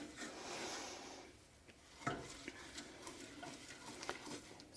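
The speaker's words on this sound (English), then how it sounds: "So we're going to keep stirring." Caramel sugar being stirred in a pan with a utensil, soft scraping and faint sizzling strokes repeating steadily, close and quiet with no talk.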